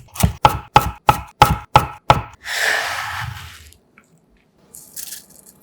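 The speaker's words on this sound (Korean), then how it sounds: "향긋한 파슬리 약간을 거친 줄기는 잘라내고 굵게 다져 담고" A knife chops parsley coarsely on a cutting board: seven crisp, evenly paced thuds up close, then a soft rustling scrape as the chopped herbs are gathered, followed by a faint clatter.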